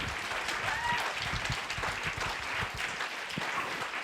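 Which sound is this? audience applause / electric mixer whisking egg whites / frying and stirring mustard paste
audience applause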